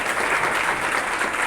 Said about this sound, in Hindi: आज बिटिया के लिए ताली भी बजेगी